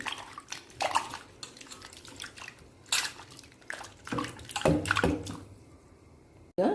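Cut taro pieces dropped into salted water in a home kitchen, soft wet plops, splashes and squishy handling in irregular bursts, fairly quiet and close with no voices.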